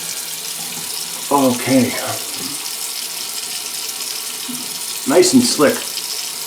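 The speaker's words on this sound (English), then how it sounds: "Let's get a quick rinse in now." Tap water runs steadily and fairly close for a quick rinse during a shave, a constant hiss through the whole stretch with someone talking briefly over it twice.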